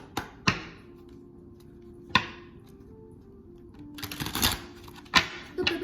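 Tarot-style advice cards riffled and slapped down by hand, with sharp clicking snaps and a longer flurry of rapid shuffling, close and loud with no talking.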